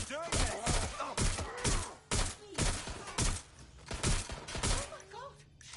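Gunfire in the Watch Dogs Legion video game: repeated loud bursts of shots in rapid, uneven volleys through most of the stretch, with people talking excitedly over and between them.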